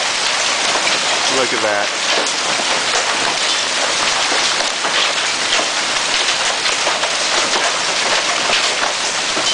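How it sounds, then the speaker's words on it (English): Hail pours down steadily on a brand new roof and other outdoor surfaces in a warm-weather hailstorm in Round Rock, a dense, loud, continuous clatter that fills the whole clip, with a brief spoken remark near the start. "It's nice and warm outside and there's tons and tons of hail."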